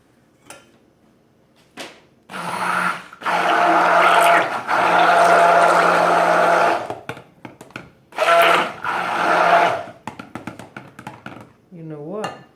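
A blender whirs in several bursts while mixing soap batter for a black Egyptian dragon soap. Long loud runs alternate with short stops and clicks, and a voice speaks briefly near the end.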